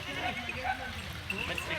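Goats on a farm with milk goats and kids bleat in short calls, partly masked by someone talking over them.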